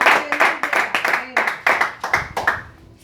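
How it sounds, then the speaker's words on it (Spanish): A congregation claps in a church service, with sharp, uneven bursts of hand claps coming in quick clusters and close by, and a voice faintly underneath. "dele un aplauso al Rey"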